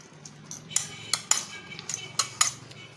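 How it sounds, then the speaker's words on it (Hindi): Boiled white chickpeas dropped from a utensil into a bowl of sauce for a salad, making a series of sharp clinks and taps, about six distinct strikes close by, quite loud against a faint low hum. "पहले मैं इसमें डालूँगी ये वाइट बॉइल्ड चने"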